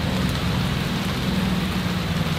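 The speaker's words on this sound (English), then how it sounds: "It is pouring rain right now." Heavy cold September rain pours outside a kitchen window during a thunderstorm, a dense, steady hiss of water with no pauses and no voices.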